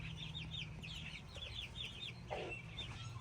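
Faint chicken clucking with soft chirpy calls in a backyard coop and run over a low steady hum, followed by a brief rustle.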